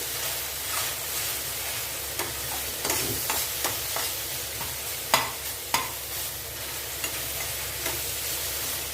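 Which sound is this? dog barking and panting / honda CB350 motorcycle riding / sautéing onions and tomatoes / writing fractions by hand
sautéing onions and tomatoes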